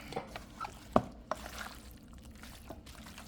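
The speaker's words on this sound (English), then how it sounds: "we're just gonna mix all this stuff up like that" Peas and rice being mixed in a rice cooker with a spoon: faint scraping and soft clinks, one sharper knock near the start, quiet and close with no talking.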